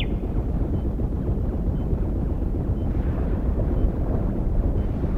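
A continuous deep roaring rumble of explosions in the video game Dead Space 2, sustained throughout, loud and heavy with no voices.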